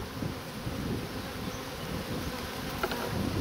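Honey bees buzz steadily in a dense, continuous drone around an open hive as frames are handled, loud and close, with faint knocks and clicks underneath.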